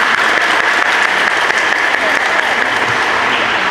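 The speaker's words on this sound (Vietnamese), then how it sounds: "và một tràng pháo tay nữa nhé" A round of applause from a congregation at a Catholic parish feast celebrating Our Lady of the Rosary, with loud, even clapping held throughout at close range.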